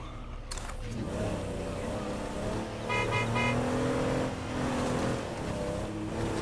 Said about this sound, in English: with my car honking